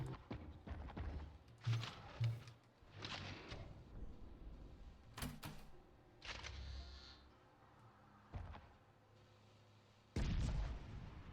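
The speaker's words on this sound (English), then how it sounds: "We have these red barriers that can only be taken down using explosive boxes." Explosive box blowing up in a sci-fi shooter game, with a series of loud booms and sharp blasts scattered across the stretch, and a heavy final explosion near the end.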